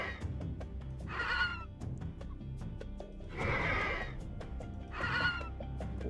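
Horses whinny three times in the strategy game Age of Mythology Retold, each neigh a loud, close call over a bed of clicking game sounds and low background noise.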